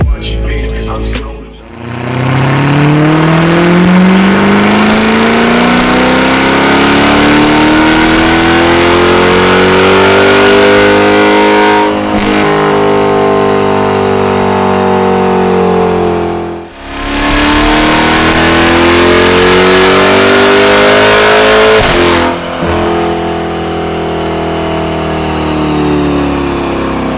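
Land Rover Defender V8 5.0 engine revving loudly and close, rising in pitch in long sustained pulls with a brief dip midway before climbing again.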